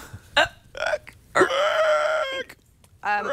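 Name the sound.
hiccup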